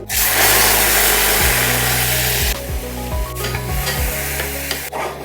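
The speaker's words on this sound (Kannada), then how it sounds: "ಈ ತುಪ್ಪಕ್ಕೆ ಒಂದು ಅರ್ಧ ಚಮಚದಷ್ಟು ಜೀರಿಗೆ ಒಂದು ಕಾಲು ಚಮಚದಷ್ಟು ಹಿಂಗು ಇದಕ್ಕೆ ರುಬ್ಬಿದಂಥ ಪಾಲಕ್ ಪ್ಯೂರಿನ ಸೇರಿಸ್ತಾ ಇದ್ದೀನಿ" Cumin, asafoetida and spinach purée hit hot ghee with a loud sizzle that fades after a couple of seconds, followed by softer frying and a few clinks of stirring.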